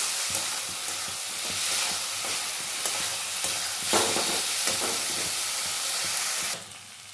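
Spice masala for a paneer and potato curry sizzles and fries in a pan, with steady hiss and repeated scraping stirs, close and fairly quiet, ending abruptly.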